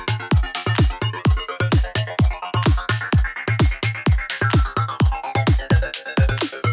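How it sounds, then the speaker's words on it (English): A looped drum beat with punchy low kicks and bright snare hits, swept by a phaser or flanger effect that gives the cymbals and upper tones a moving, whooshing shimmer, played steadily and alone. "you could try like a phaser or a flanger"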